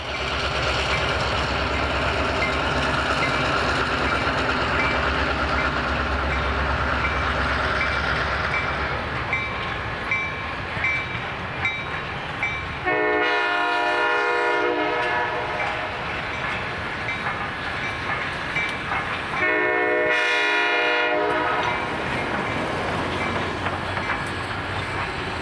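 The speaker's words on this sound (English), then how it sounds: "K5LA horn began to pierce through the fog, which wasn't getting any better" A diesel locomotive's K5LA horn sounds in two long, loud blasts through fog as a Florida East Coast train approaches, over a steady rumble of rolling rail cars.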